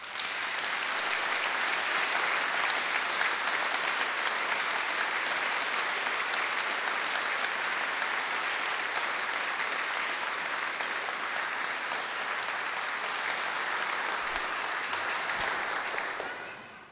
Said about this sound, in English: Please join me in celebrating all of our achievements by giving us a round of applause.